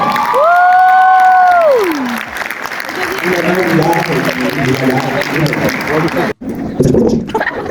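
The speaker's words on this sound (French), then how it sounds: "aujourd'hui, on peut l'applaudir bien fort, s'il vous plaît." Crowd at the Fana Manga fan convention in Yzeure applauding and cheering loudly and steadily, with a sustained tone sounding near the start and shouts and voices rising through the ovation before a brief dropout.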